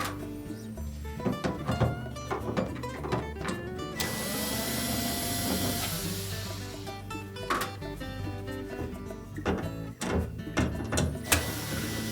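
Phillips head screws are backed out of a Frigidaire refrigerator's crisper drawer slide rail. A whirring power screwdriver runs in bursts, a louder stretch of mechanical whine comes midway, and clicks and knocks of the parts are heard close up.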